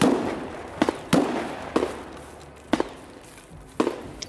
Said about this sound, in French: J'entends déjà des coups de feu